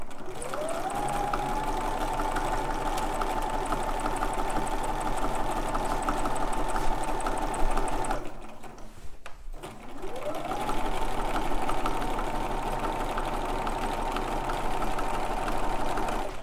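A sewing machine quilts layered fabric, running at a steady fast hum that revs up, holds for several seconds, stops briefly and then revs up again.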